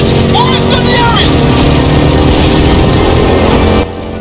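Heavy engines drone in Gears of War 4, a loud continuous mechanical roar with shifting whines, which cuts off abruptly near the end.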